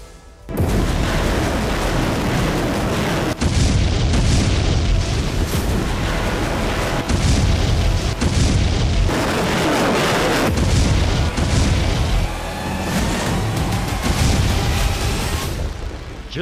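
Explosions from Ukrainian strikes on Russian territory, from Rostov to Berdiansk, come as heavy continuous booms and rumbling blasts, loud and dense, with brief breaks between bursts.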